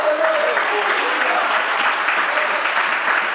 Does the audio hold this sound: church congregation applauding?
yes